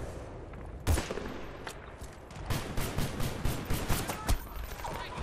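Gunfire in the video game Battlefield: Bad Company 2, sharp bursts of rifle and machine-gun shots cracking in irregular clusters, with several rapid volleys in the second half over a busy battlefield background.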